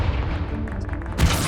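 A Confringo explosion spell bursts during a duel in a Harry Potter video game, a dense rumbling blast that fades and then a sharp, loud boom near the end of the short moment.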